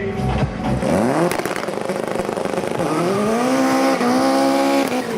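Opel Kadett C and Kadett D race cars at a motorsport event, engines loud and close, revving hard with rising pitch sweeps as gears change, tires squealing briefly amid continuous roaring.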